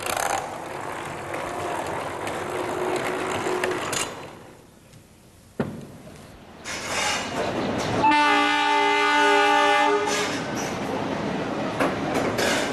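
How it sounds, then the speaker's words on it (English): The Shatabdi Express pulls into Gwalior station in India, a loud rumble giving way to a brief hush, then a strong, sustained, close horn blast with continued rolling train noise after it. "when the Shatabdi Express arrives, it brings chaos to Gwalior station"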